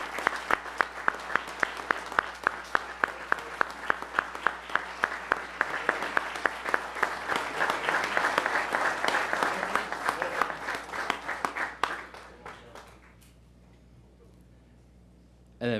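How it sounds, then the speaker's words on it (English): A round of applause at a village board meeting starts with distinct individual claps, swells into dense sustained clapping from the room, and then fades to quiet near the end. "So please, you could join with me to show them some congratulations with a round of applause."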